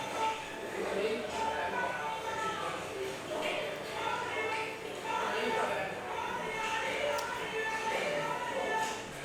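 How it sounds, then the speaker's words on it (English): Busy restaurant ambience with a dense murmur of many overlapping voices and occasional clinks, steady throughout. "That's the sound of the restaurant."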